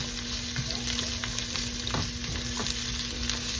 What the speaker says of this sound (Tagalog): So first, I'm going to fry the onions.